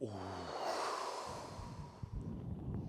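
A deep breath in and out during a stretch in a morning workout, one long loud inhale then a snorting release of air, heard close up with no words.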